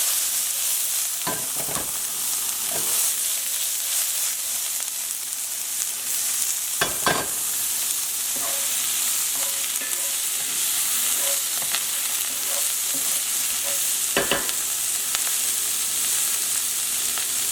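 Shallots and green beans sautéing in a hot pan, a steady close sizzle broken by occasional sharp clanks and scrapes of stirring.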